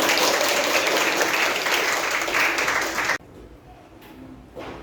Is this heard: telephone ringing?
no